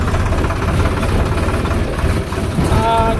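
A tractor engine idles close by with a steady, loud, low chugging rumble and rattling vibration throughout.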